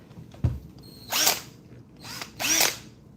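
A Bauer 20V HYPERMAX lithium cordless drill whirs in two short bursts, each revving up and winding down, after a single click, with quiet pauses between.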